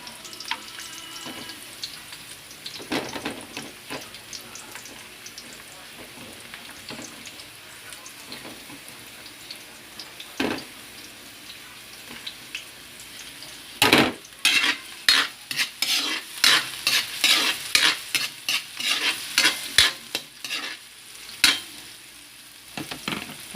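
Ginger for chicken adobo sizzles and fries in a pan under a steady low hiss, with a spatula stirring and clattering that grows busier and louder in the second half.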